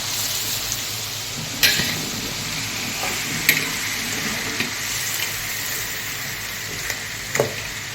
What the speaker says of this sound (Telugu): ఇప్పుడు మనం ఈ అల్లం వెల్లుల్లి పేస్ట్ వేసుకొని గడ్డలు కట్టకుండా ఇలా తిప్పుకోవాలి.